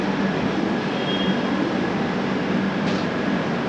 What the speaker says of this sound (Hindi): और ये भाई बगल में नई दिल्ली डिब्रूगढ़ राजधानी एक्सप्रेस